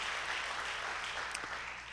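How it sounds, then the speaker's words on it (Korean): A church congregation at an autumn revival service applauds in a steady, dense wash of clapping that holds evenly for a couple of seconds. "네, 박수하겠습니다."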